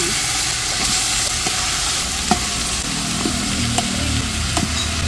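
Chopped pork leg sizzles and fries in a cooking pot, a steady loud crackling hiss with occasional stirring clicks and no talking.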